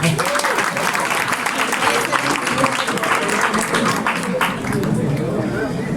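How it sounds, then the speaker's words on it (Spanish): Applause from an audience at a Spanish-language literature talk, a dense spell of clapping mixed with crowd murmur and voices throughout. "un fuerte aplauso"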